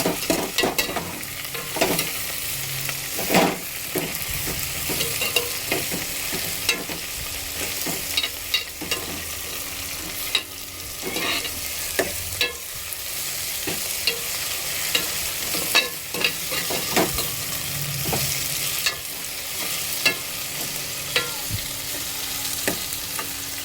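Okra curry sizzles in a pan while a spoon stirs and scrapes it, a steady close frying hiss broken by irregular clinks and scrapes throughout, without talk.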